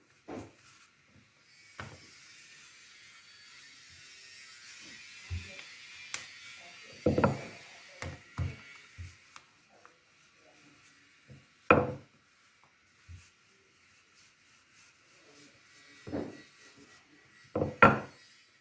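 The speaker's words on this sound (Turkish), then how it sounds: "şimdi bezemizin altına üstüne un aldıktan sonra açmaya başladım" Floured dough for börek being rolled out on a work surface, heard as scattered soft knocks and rubbing thumps from the rolling pin, some louder bumps, with quiet gaps and no talking.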